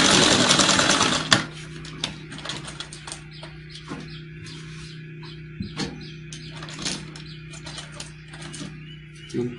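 A sewing machine stitches blouse sleeve pieces together, starting with a loud burst of fast stitching, then settling into a steady close motor hum with light ticks and clicks.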